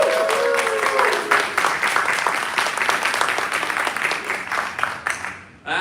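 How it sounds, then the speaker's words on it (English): Audience applause at a Comic-Con panel in San Diego, dense sustained clapping from a large crowd that holds steady for several seconds before cutting off abruptly at the end. "Let's first give a big round of applause to Kevin from Toying Around."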